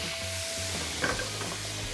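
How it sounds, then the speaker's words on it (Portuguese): Steak pan sizzling and frying steadily after the sear as it is deglazed, a continuous close hiss with a brief louder spit midway, no voices. "deglaçar a panela"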